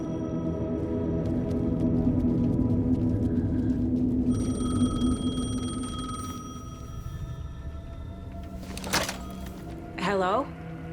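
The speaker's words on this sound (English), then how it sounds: "The payphone was ringing." A payphone rings in Alan Wake 2. Sustained tonal ringing and game ambience fill the first half, followed by brief sharp electronic chirps and warbles near the end.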